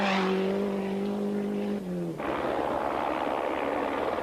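A rally car in the 1993 Paris-Dakar Rally drives down a valley road, its engine droning steadily then dropping off and giving way to a broad, rushing roar of wind and gravel noise.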